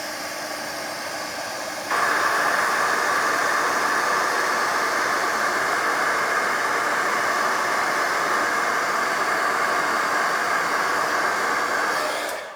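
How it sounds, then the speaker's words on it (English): A heat tool blows hot air for heat embossing a stamped card, switching on abruptly into a loud, steady whooshing roar that holds for about ten seconds before cutting off, with no talking. "Make sure you put all this aside before you come in with your heat tool. And we're going to heat emboss this."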